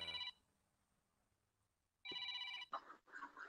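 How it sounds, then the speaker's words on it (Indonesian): A telephone rings in two bursts, a short one at the start and a louder, longer one near the end, with quiet room tone between them. "ini aku ada telepon, aku angkat dulu ya"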